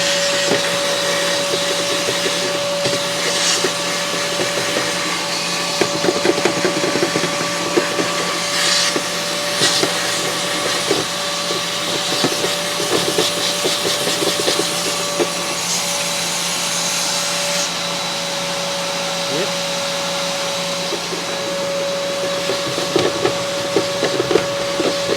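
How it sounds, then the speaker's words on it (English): A shop vac sucks mud out of a Polaris Sportsman 400 ATV after mudding, giving a loud, constant motor whine with a rushing airflow hiss that stays steady and close throughout, with small fluctuations as the nozzle moves. "I'm gonna actually take the shop vac and we'll get some of that stuff out of there."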